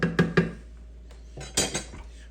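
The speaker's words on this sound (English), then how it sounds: "Go ahead and give it a stir." Seasoned vegetable filling with salt, pepper and Hungarian paprika stirred in a pan: three quick metal clinks of a spoon against the pan, a pause, then a scraping stir and a few more knocks, close, with no voices.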